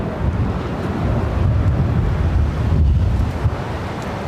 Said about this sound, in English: I cannot believe the wind here today